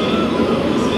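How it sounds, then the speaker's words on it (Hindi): A train approaches at Lalaguda railway station on the South Central Railway, a loud, steady rumble of wheels and rail noise filling the scene without pause. "और एक ट्रेन आ रही है सामने"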